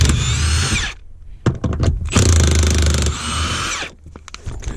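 A power tool whirs in loud bursts while removing seat bolts inside a 2007 Ford F250, with three sustained runs separated by short clicks and handling noises, close by with no talking.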